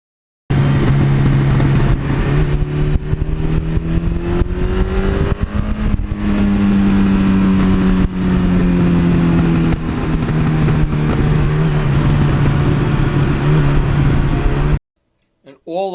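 A 1982 Suzuki GS1100E motorcycle idles and revs close by, its engine and exhaust holding a loud, steady rumble with rising and falling pitch through most of the stretch before cutting off abruptly near the end.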